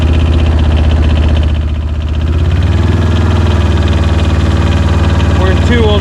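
Arctic Cat ATV engine churning through deep mud in two-wheel drive, a steady loud low rumble with harmonic drone that dips briefly and swells again, close and continuous, with a voice faintly mixed in.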